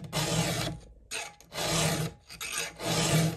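A hand file rasps across the teeth of a Husqvarna 2101 chainsaw chain in three firm, repeated strokes with short pauses between them, close and dry, with no talking.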